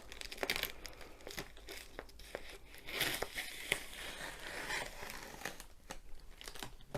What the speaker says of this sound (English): I'll just slide the scissors all the way along and open it this way